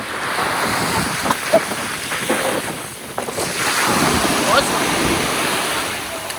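Strong wind gusts across the microphone at a seaside holiday spot, a loud constant roar with surf-like wash and brief bumps, heard without clear speech.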